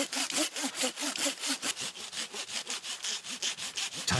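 A hand saw cuts through a young cypress tree in a forest, steady back-and-forth rasping strokes in an even rhythm, close and clear with no voices.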